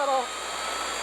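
A Cake Kalk OR electric dirt bike at wide open throttle gives a steady, loud whirring whine that holds without a break from start to finish.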